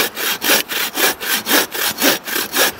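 A Sven folding saw with a new blade cross-cuts a 6–7 inch wooden log, loud and close, each rhythmic push and pull stroke rasping steadily through the wood about ten times in under three seconds.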